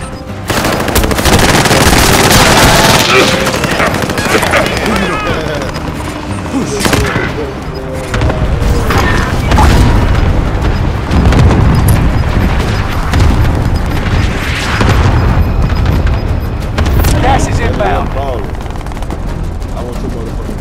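Heavy gunfire in the Warzone battle royale shooter: dense machine-gun bursts, single shots and booming explosions crowd together almost continuously, loud and close, with voices talking over the combat.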